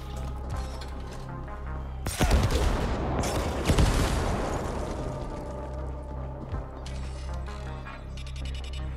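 Automated turret gunfire in The Ascent, a loud sustained burst of rapid shots lasting several seconds, framed by quieter mechanical game hum before and after.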